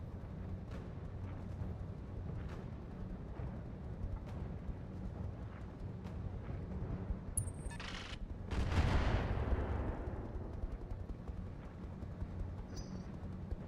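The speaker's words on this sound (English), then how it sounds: "How about a high velocity AC-20 without lube? Firing at enemy." In the RogueTech mech game, a high-velocity AC-20 autocannon fires at an enemy. A loud, heavy burst rises out of a steady rumbling battle backdrop, then trails off.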